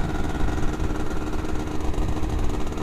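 A Yamaha Fiz R motorcycle fitted with its stock bobok exhaust idles steadily, a close, continuous low engine rumble with a faint mechanical clatter and no talking.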